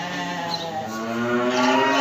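A lamb lets out a long, drawn-out bleat, close and fairly loud, rising slightly toward the end.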